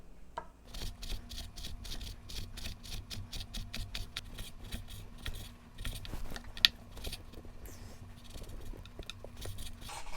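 A knife slices raw beef for yukhoe on a board, giving a rapid, even series of close, quiet cutting strokes that continue steadily throughout.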